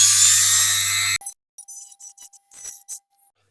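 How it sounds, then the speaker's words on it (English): A sharp drill bit starts a pilot hole in a Dinky Toys Trojan 15cwt diecast van, a loud steady whine that stops abruptly, followed by a string of short scraping and clinking bursts. "we've got a sharp drill to just get that pilot hole in"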